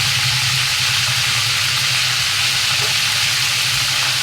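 Panch phoron spices and bay leaves sizzle in hot oil in a pan, giving a constant, close and loud hiss and crackle with no pauses.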